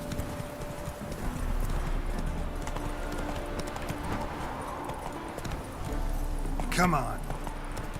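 Horse hooves clip-clop at a gallop in the Witcher 3 video game, a steady rhythmic pounding with a brief whinny near the end, while a man urges the horse on over it.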